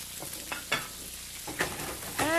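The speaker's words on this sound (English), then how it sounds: "and we shake it, we stir it" Snow peas and pepper flakes frying in a hot pan while being stirred and shaken, a steady close sizzle broken by scraping stir strokes and brief clatters.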